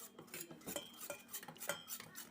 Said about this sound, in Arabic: مع الاستمرار في التحريك